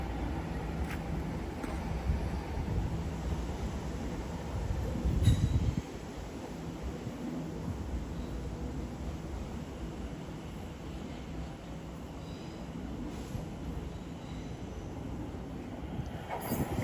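Class 345 Elizabeth line electric train 345 064 pulls out of Shenfield station, a continuous rumbling hum and wheel noise with a faint high whine, steady then easing slightly as it departs.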